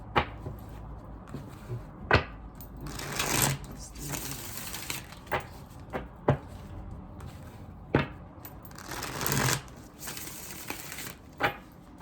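Tarot cards are shuffled close up in quiet bursts of riffling, with sharp taps and snaps at intervals as the deck is squared.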